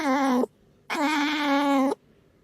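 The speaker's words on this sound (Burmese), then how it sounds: "အဲ့ဒါကိုအင်္ဂလိပ်လိုဆိုရင်တော့ chipping ဒါမှမဟုတ် clicking လို့ခေါ်ရဗျ" A house cat gives two short chattering calls at a bird outside, a brief burst followed by a longer one, close and clear with a pause between and no talking.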